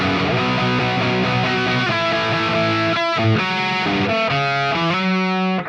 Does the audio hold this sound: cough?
no